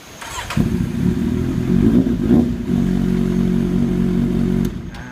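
A Kawasaki Z800 motorcycle is started. A brief crank is followed by the engine catching into a steady, loud idle that runs for about four seconds and then cuts off.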